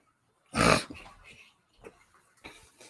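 A smelly pet dog that needs a bath gives one loud, close bark or growl-like burst, followed by a few quieter snuffling, breathing and movement sounds.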